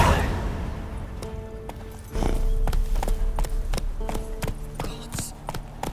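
Hooves of Roach, the horse in The Witcher 3, galloping in a steady clip-clop rhythm that picks up and grows louder partway through, alone without talk.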